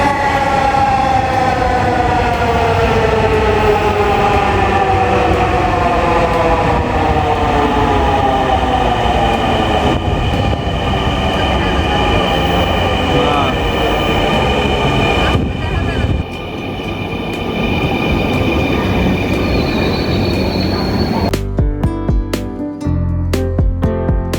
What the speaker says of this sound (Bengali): কিছুক্ষণ অপেক্ষা করার পরই চলে আসলো আমাদের মেট্রো রেল